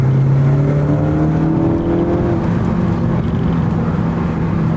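A 2018 Ford Focus ST accelerates hard on a race track, its engine note climbing steeply through the revs in a loud, close in-car roar, with a shift point and a continuous rising drone.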